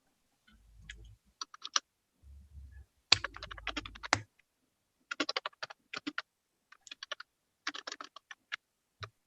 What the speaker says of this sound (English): I can hear someone typing.